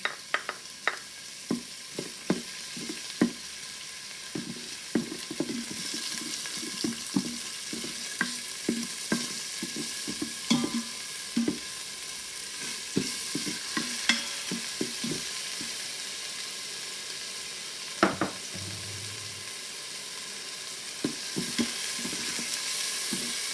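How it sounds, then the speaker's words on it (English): Smoked bacon with chopped rosemary fries in an Instant Pot, a continuous sizzle and crackle broken by frequent scraping stirs and clicks. There is no talk. "We just need the bacon to go a bit crispy and golden."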